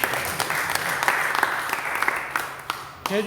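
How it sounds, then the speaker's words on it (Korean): Audience at a church ministers' education conference applauding to welcome a lecturer, a moderate steady clapping with a few sharper individual claps standing out, tapering off near the end. "역시나 큰 박수로 한번 모시도록 하겠습니다"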